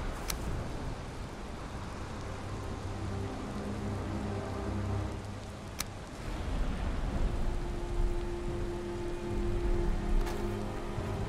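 Steady rain pours down in the survival game Valheim, a dense constant hiss throughout with a couple of sharp distant crackles from lightning, and no voices.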